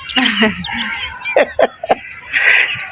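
Household chickens kept alongside ducks cluck and call close by in a few short, uneven bursts, with no talk.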